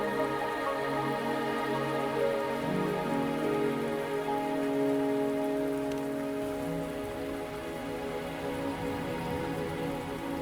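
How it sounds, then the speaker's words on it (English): Steady video game rain patters on a surface throughout, with sustained musical tones layered underneath and no voices. "Are you trapped here by the rain?"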